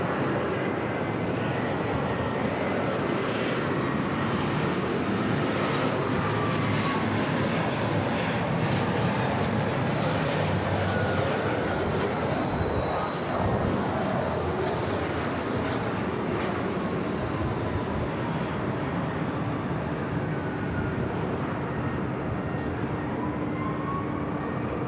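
An Embraer E-Jet airliner arriving from Reno at Los Angeles LAX airport, its engines roaring steadily and loudly for the whole stretch, with a slowly shifting whine over the broad jet rumble.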